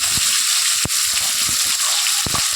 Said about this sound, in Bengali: এইভাবে মাছগুলো ভেজে নিই।